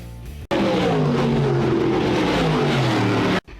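A pro stock race car engine caught from an in-car camera at speed, a loud steady roar with harmonics that slide slowly downward as the revs ease, cut off abruptly at both ends.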